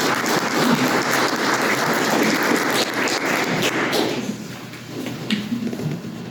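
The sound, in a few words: audience applause at a forum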